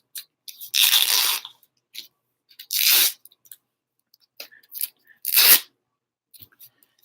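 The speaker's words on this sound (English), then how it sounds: "Get some tape off of here." Packing tape is ripped off a package in several sharp tearing bursts, each a second or so long, with quieter crinkles and taps between them, close and with no talking.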